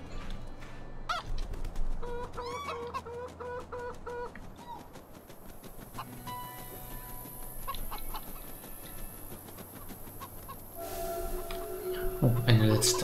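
Chicken clucking and squawking in the video game Minute of Islands, a run of sharp repeated clucks over light ambient game sound, with a person talking over part of it.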